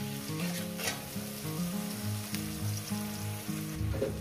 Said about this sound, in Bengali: গ্যাসটা আমি মিডিয়ামে করে দিলাম, দিয়ে এটাকে আমি ভাজবো 2 মিনিট ধরে।